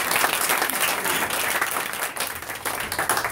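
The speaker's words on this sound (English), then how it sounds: "so round of applause for everyone" Audience applause at an interfaith solidarity gathering with the Muslim community, a dense, steady wash of many hands clapping that fills the room for a few seconds, loud and continuous with no voices over it.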